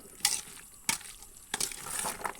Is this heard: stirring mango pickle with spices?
yes